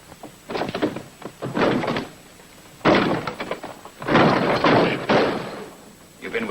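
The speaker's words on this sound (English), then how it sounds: "Come on, open the door, I'll bust it in." Someone bangs heavily on a door and tries to force it, producing several bursts of loud thuds and rattling knocks in irregular clusters, close and forceful, with brief pauses between the assaults.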